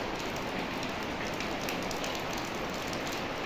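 Rain pours on a monsoon morning in front of a house, a dense, continuous patter and hiss at an even level from start to finish, with nobody speaking.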